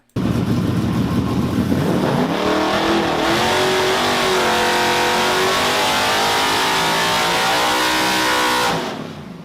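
A high-compression V8 with .350 heads, Comp cams and 12-to-1 compression revs hard to 7,800 rpm, a loud continuous wail that climbs steadily in pitch for about eight seconds before cutting off abruptly, with no talk over it.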